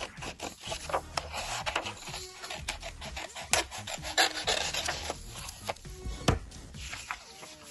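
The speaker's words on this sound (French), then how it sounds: "On va découper bien sûr le triangle du bas pour obtenir notre carré." Scissors cutting the bottom triangle off a sheet of origami paper to make a square, heard as close, continuous rasping and rubbing snips with no talking.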